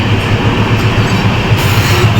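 Inside a moving express train near Kolkata, a steady, loud rumble of wheels and carriage rolls on continuously, with faint rhythmic clickety-clack over the rails and no voices.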